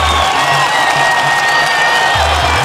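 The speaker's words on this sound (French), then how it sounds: "on va vraiment applaudir tous et toutes qui ont contribué à la réussite de ce grand événement" An audience at an international health consultation event applauds and cheers loudly, a dense, continuous wall of clapping mixed with crowd noise and whoops that never lets up.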